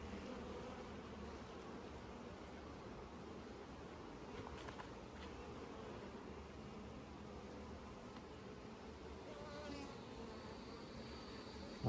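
Honey bees buzz in a large hive, a dense, steady drone that holds even and close for the whole stretch with no talk.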